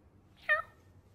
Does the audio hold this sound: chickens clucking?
no